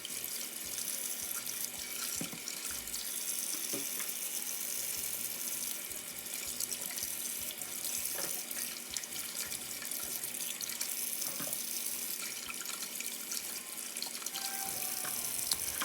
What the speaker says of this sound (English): I'm going to wash those off just quickly here, and then also wash the tomatoes.